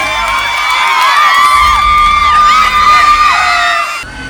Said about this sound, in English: Ladies and gentlemen, give a round of applause for all our contestants.